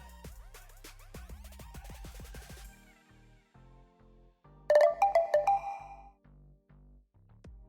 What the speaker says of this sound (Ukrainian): СМС має прийти до телефону.